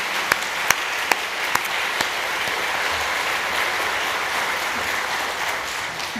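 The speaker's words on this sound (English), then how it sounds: "if we could just have a round of applause for them" A live audience at a Taylor Swift panel event applauds steadily, a dense wash of clapping from many hands with a few sharper claps standing out early on, no voices over it.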